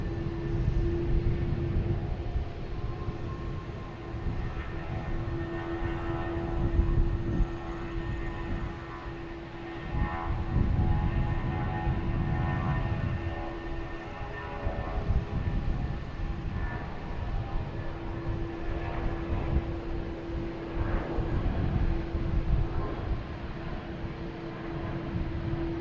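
A jet airliner takes off at Boston Logan Airport, its engines a continuous low roar with a steady hum that stays level and fairly distant for the whole stretch, with no voices.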